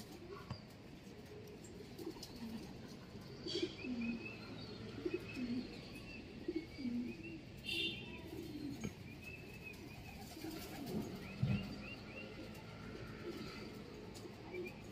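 Pigeons coo repeatedly in a soft, low rhythm while smaller birds chirp intermittently, with light outdoor background noise throughout.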